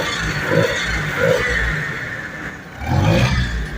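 Rebuilt Balkancar forklift engine, a 402 swapped to a 417 after a full overhaul, idling steadily with low rumble and a few swells in revs, close and loud, no talk.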